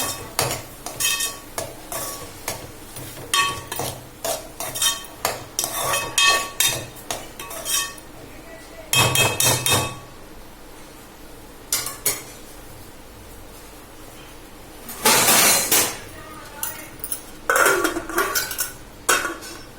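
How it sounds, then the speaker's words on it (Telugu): Onions being stirred in a metal pot, with a run of repeated clanking scrapes and knocks from a spoon, then heavier metallic clatters as the lid is set on, over a faint sizzle. "ఒకసారి కలిపేసి మూత పెట్టేద్దాం."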